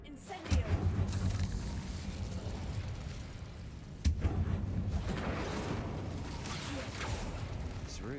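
Incendio fire spell cast in Hogwarts Legacy, two sharp bursts with a crackling, whooshing flare, several seconds apart, over low game ambience.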